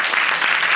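Audience applause at a book launch, a brief burst of dense, loud clapping from a crowd with no voices over it.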